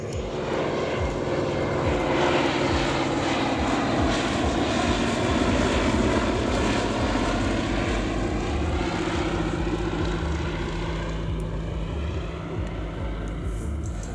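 A Fairey Swordfish biplane flies a display at Abingdon Air Show 2024, its radial piston engine droning steadily for the whole stretch with a throbbing propeller note, loud and fairly near, changing only slightly in pitch as it passes.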